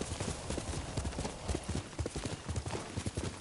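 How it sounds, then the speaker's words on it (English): Horse hooves clip-clop at a walking pace in the samurai video game Ghost of Tsushima, a steady close rhythm of soft thuds repeating for a few seconds without speech. "You're a good horse, Kage."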